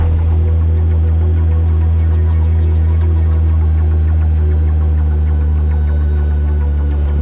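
A 2024 BMW K1600B bagger motorcycle engine idles with a steady, smooth low hum and throb, loud and close, holding even for the whole stretch with no voices over it.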